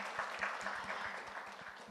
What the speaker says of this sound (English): this round of applause is not enough